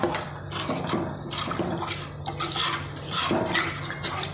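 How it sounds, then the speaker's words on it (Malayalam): Tamarind water soaked in hot water is poured into a curry pan for a stingray curry, a soft, continuous liquid splash and trickle lasting several seconds with no talking. "ഇതിലേക്ക് നമ്മൾ ചൂടുവെള്ളത്തിൽ ഇട്ട് വെച്ചിരിക്കുന്ന ആ പുളിവെള്ളം അങ്ങോട്ട് ഒഴിച്ചു കൊടുക്കാം."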